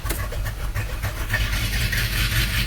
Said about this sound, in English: I didn't expect it to start up that easily. I can't believe it's idling with so many vacuum leaks.